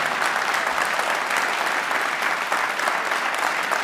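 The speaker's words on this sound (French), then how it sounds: "Un applaudissement à l'Académie musicale de Liège." Sustained audience applause in a concert hall honoring a Liège music academy, dense and even clapping from a large crowd, loud and continuous with no voices on top.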